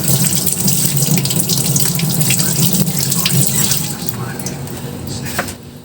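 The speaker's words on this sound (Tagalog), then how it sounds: "Yung pipino, hindi na natin babalatan to. Hugasan na lang natin siya." Cucumber being washed under a running kitchen tap, a loud, steady rush of water splashing into the sink, easing slightly toward the end.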